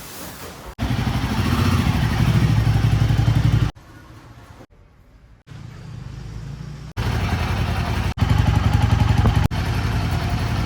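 A Royal Enfield Himalayan motorcycle engine runs nearby with a throbbing idle that rises and falls in loudness, with a few abrupt cuts and a quiet gap in the middle, and no talking.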